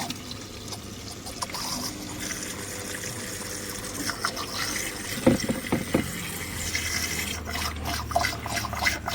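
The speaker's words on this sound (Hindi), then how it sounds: "देख लीजिए ये पंप शुरू हो चुका है।" Water pump of a Priya God ST22 model air cooler running after being powered on during a wiring repair, giving a steady low hum with water trickling and splashing; several sharper clatters appear about halfway through.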